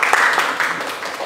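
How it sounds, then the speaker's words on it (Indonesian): Classmates applauding in a classroom during a microteaching session, a brief, dense burst of many hands clapping at once, loud and close, with no voices over it. "Tepuk tangan dulu dong teman-teman"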